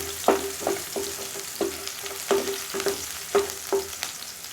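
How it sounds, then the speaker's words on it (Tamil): Onions sautéing in oil for a village-style radish sambar: a continuous soft frying hiss broken by regular spoon strokes scraping and tapping the pan, close and without talk. "வெங்காயம் சேர்த்து நல்லா வணக்கிடலாம்"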